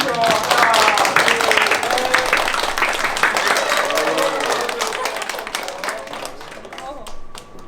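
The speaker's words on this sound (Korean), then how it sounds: "친구분들은 박수 좀 크게 부탁드리겠습니다" Wedding guests clap together at a Korean wedding photo session. The applause starts strong and fades gradually, and voices talk and call out over the clapping.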